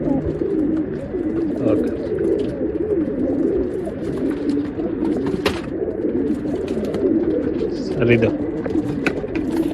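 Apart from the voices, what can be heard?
pigeons cooing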